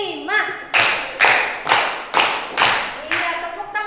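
Primary school class clapping hands together in a counted rhythm, six loud sharp claps spaced about half a second apart, with a teacher's voice and children's voices counting between the claps.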